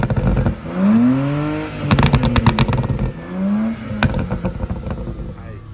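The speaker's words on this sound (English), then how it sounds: "Give us some revs." A BMW 335xi with a stage 2 MHD tune revs hard twice up close: each blip climbs sharply and falls back to a rough, burbling idle, loud and alone.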